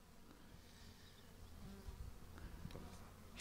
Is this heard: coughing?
no